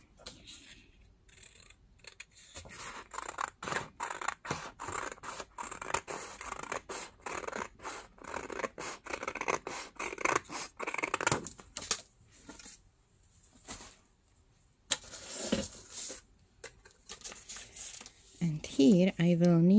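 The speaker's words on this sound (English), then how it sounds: "Here I'm gonna cut that white strip." Scissors snip through a white paper strip for a Halloween folio craft, giving many quick crisp cuts in uneven bursts with short pauses, close and fairly loud, with a brief gap near the end.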